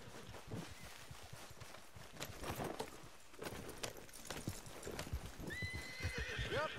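Several horses in the video game Red Dead Redemption 2 Online gallop with dense, fast hoofbeats, close and steady, while a sharp neigh rings out near the end.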